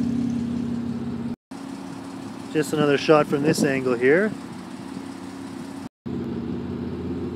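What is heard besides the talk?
Hyundai Genesis 3.8 idling with aftermarket exhaust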